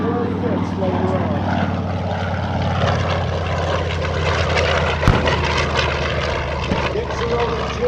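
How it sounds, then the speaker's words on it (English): WWII propeller warbirds, including a P-40 with a B-25 and a TBM, fly at the Dover AFB open house air show; a steady, loud engine drone rolls on throughout while an announcer talks over it. "And in the P-40, we have Matt Kropp at the controls of Panchito."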